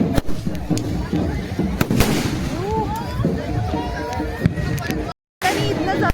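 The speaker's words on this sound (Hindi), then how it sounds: "पटाखा चल रहा है" Firecrackers bang sharply again and again amid a noisy crowd at a Chhath Puja sunrise offering, loud and close, with people talking and shouting throughout.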